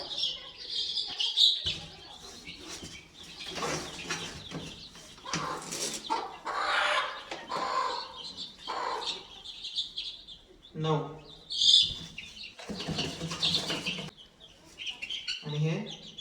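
Chickens cluck and chirp in short repeated bursts nearby while a person talks throughout.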